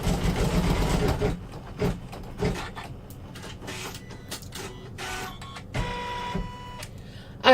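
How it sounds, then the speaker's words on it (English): An embroidery sewing machine stitching down along the base of an in-the-hoop earbud holder, whirring steadily with a dense, rapid mechanical chatter and several louder clunks, close and alone. "we do need to stitch down along the base there"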